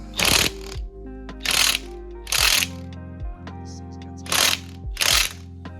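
Ratchet wrench clicking on a bolt of a Suzuki engine during clutch work, in several loud bursts of rapid ratcheting separated by short pauses, close up with a steady low hum behind.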